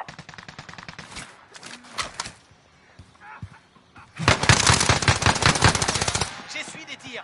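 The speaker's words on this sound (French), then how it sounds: "J'essuie des tirs." Rapid automatic gunfire in a Call of Duty Warzone match played on PS5, sharp bursts early on and then a long sustained loud volley, with game effects between the shots.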